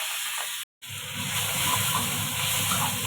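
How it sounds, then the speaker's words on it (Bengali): Fish oil sizzling over fried potato and brinjal with green chilli in a pan, a steady close hiss with bubbling that drops out briefly and returns, no talking. "এখন মাছের তেলটা দিয়ে দিব।"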